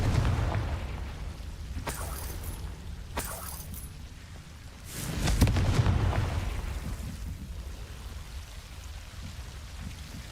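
A Confringo blasting spell explodes in the Hogwarts Legacy video game, a loud, booming burst midway that fades into a rumbling tail, with a couple of sharper cracks earlier and steady rain-like ambience throughout.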